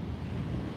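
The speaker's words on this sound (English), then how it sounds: "The waves crashing." Waves crash on a shore-angling beach in 40 mph wind and rain, a dense low roar with heavy wind buffeting the microphone, loud and constant through the brief moment.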